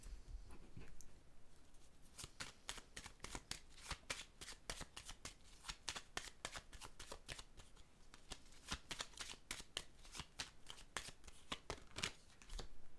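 A deck of cards shuffled up close, with rapid crisp flicking clicks in a steady patter throughout, quiet and with no voices.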